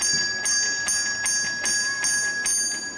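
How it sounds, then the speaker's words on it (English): A handbell rung in a quick steady series of bright, sustained metallic strikes, close and loud, with ringing tones carrying between hits. "Matilda, 9 bell rings, please."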